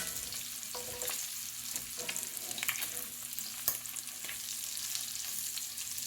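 Onions caramelize in a pan for hamburger steak, a steady soft sizzle with occasional stirring scrapes, close and fairly quiet, no voices.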